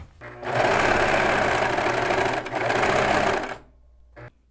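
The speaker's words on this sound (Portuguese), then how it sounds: "eu vou fazer um chuleado nas duas partes da lateral, para fazer o contorno aqui." Overlock sewing machine finishing the side seams of tactel sports shorts, running in one loud continuous burst for about three seconds with a brief dip midway, then stopping, followed by a short mechanical clunk.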